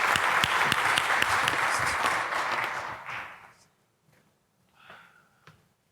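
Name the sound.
audience applause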